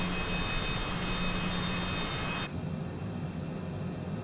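The jet engines of a Cessna Citation CJ4 mod in Microsoft Flight Simulator 2020 give a steady, loud, broadband roar with a high whine. It abruptly thins and quietens partway through, with no talking.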